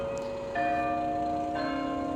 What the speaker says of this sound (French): La cloche sonne.